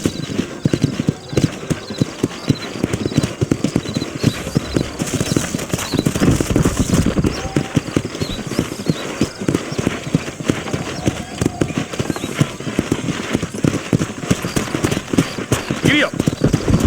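Horse hooves clip-clop at a steady riding pace in the western video game Red Dead Redemption, with a brief whinny and some speech over the rhythmic trotting that continues throughout.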